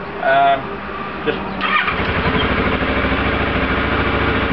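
A 2010 parallel twin motorcycle engine cranks briefly and catches, then settles into a steady throbbing idle as it warms up, close by and moderately loud.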